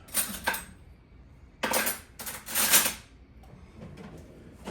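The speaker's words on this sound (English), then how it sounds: "Really just scrape it and keep going and going until you get it all out." A spoon scraping chunky peanut butter out of its container, heard as a few separate close, rasping scrapes with quiet pauses between them.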